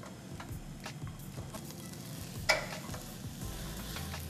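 Ham, cheese and mushroom omelette frying in a pan gives a steady low sizzle, with a single sharp clack of the pan partway through and faint ticks around it, no voice.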